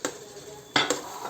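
A spoon stirs a veg biryani mixture in a cooking pot, giving a few faint scraping clinks with two sharper knocks near the end, quiet and close, with no talk.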